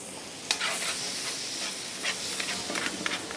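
Small pieces of cottage cheese sizzle and fry with spices in a pan over a gas flame, a steady soft hiss with occasional stirring scrapes, close and fairly quiet.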